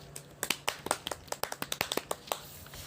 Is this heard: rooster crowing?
no